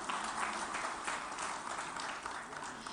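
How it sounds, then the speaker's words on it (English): Audience applause at the PLASTINDIA 2023 exhibition event in Telangana, a dense, steady wash of clapping that stays loud and continuous for the whole stretch. "A big round of applause for him,"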